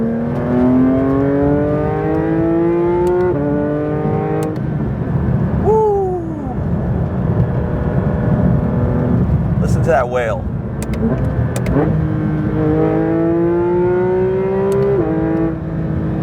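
A 2024 Porsche 911 GT3 RS flat-six engine revs hard and rises in pitch through gear changes, loud and close, with a person speaking excitedly over it.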